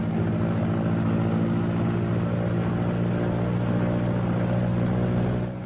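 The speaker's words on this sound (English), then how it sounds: "Next is the engine run-up and prop check, one engine at a time." A B-26 Marauder piston engine runs up toward 2,000 RPM for a prop check, a loud, steady, droning roar held close throughout, easing slightly at the very end.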